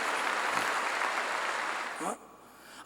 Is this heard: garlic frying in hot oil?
no